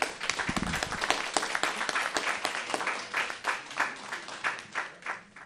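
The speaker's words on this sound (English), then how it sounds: "Let us all give a hand clap of welcome to Christine DeJongh." Audience at a heart health talk event clapping to welcome a speaker, dense applause that starts full and gradually thins and fades over several seconds.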